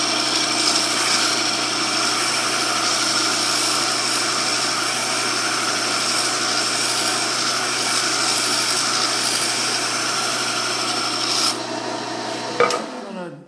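A wood lathe spins a segmented potpourri box while a tool scrapes steadily against the turning wood, a loud, continuous rasping whine with a steady motor hum that cuts off sharply near the end, with no talking.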